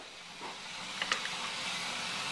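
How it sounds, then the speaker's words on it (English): A stew pot of beef and water comes to a boil on the burner, giving a steady, fairly quiet hiss with a few soft bubbling pops. "Oh, now it's boiling."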